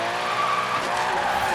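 An Aston Martin Vantage GT12 road racer drifts in Forza Horizon 3, its tires squealing in a sustained, shifting screech over a steady engine roar, loud and close throughout the short burst.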